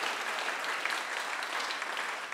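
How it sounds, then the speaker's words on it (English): Steady, dense applause from an audience at a school house singing competition, a continuous wash of many hands clapping at even loudness throughout. "Don't clap me, clap them."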